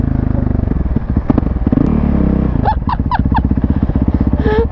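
Raptor quad bike engine running loud and close while being ridden, a rough continuous drone with rapid pulsing firing rhythm and a few sharp revving bursts partway through.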